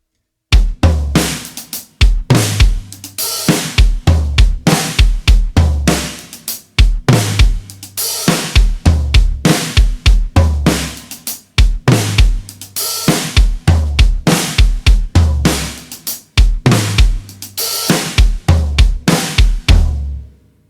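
A drum kit plays a steady, unhurried linear groove at 100 BPM with punchy kicks, snare hits and cymbals repeating loudly and close throughout.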